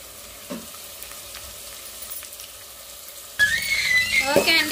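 Onions frying until brown in a pan for a fish curry, with a quiet sizzle at first, then a louder burst of crackling and spattering near the end, no voices.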